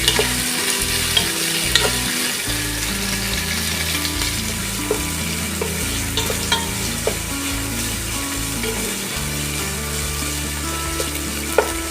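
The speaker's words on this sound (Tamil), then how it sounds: "வெங்காயம் நல்லா பொன்னிறமா ஆகுற வரைக்கும் வெயிட் பண்ணலாம்." Onions fry with a continuous loud sizzle in a pan for vegetable biryani, while a utensil scrapes and stirs through them in an irregular rhythm.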